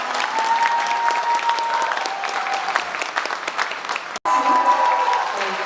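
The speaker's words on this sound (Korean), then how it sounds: "다시 한번 큰 박수 부탁드립니다." Loud, dense crowd applause at a Korean politician's constituency report meeting, sustained with a brief abrupt cut near the end before resuming, a faint tone running underneath.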